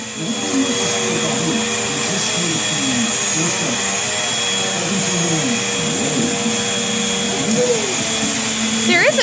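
A household vacuum cleaner runs steadily and loudly close by as a toddler vacuums the floor, a constant motor whine with shifting pitch as the nozzle moves, and faint voices beneath it.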